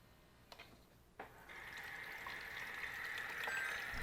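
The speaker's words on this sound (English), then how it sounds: "the ice maker will turn and twist and then fill with water" An LG refrigerator ice maker fills with water, a steady faint trickle and hiss starting after a couple of soft clicks and continuing to the end, alone and quiet.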